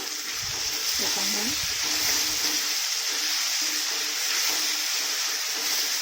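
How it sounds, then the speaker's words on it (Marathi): Vegetables, including drumsticks and pumpkin, frying in a pan for sambar give a steady, moderate sizzle, with a brief low stirring or clatter early on; no speech is heard. "याला याच्यात पाच मिनटं चांगलं फ्राय करून घ्यायच्यात भाज्या"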